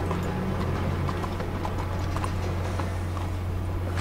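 Horse hooves clip-clop in a quick, steady rhythm over a constant low hum in the video game Red Dead Redemption 2, in the city of Saint Denis, fairly close and moderately loud, with no talking.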